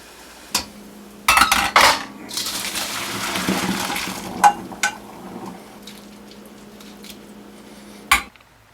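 Boiled mushrooms are strained out of a pot, with clanks and scrapes of metal, a wet splashing rush of draining water, then quieter clinks and a final sharp knock. No voice.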